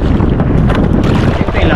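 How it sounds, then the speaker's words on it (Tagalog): Strong wind at sea aboard a fishing boat on open water, heard as a loud, rough buffeting roar against the microphone in one short burst. "Malakas ang agos, malakas ang hangin."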